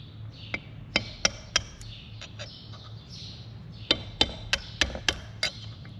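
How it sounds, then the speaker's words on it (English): Hammer taps strike while an old seal is worked out of a Yanmar Kanzaki KM35P boat gearbox, a scattered series of sharp metallic knocks in two bursts, fairly faint, with bird chirps in the background. "Here is the next seal that needs to be removed."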